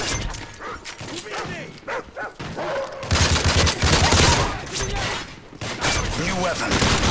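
Attack dog barking in Call of Duty Modern Warfare 3 Chaos Mode, several sharp barks mixed into dense bursts of gunfire and explosions, loud and close, with game voice announcements over the action.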